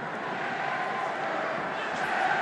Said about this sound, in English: Crowd raise their voices.